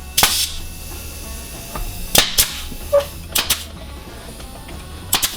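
A staple gun fires into wood pieces for a cat window enclosure: about eight sharp, snappy clacks in irregular pairs and singles over steady background hiss.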